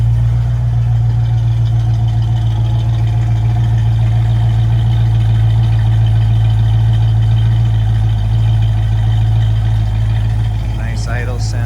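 A 1964.5 Ford Mustang convertible idles after a cold start, a loud, steady low rumble with an even throb and no change in pace throughout.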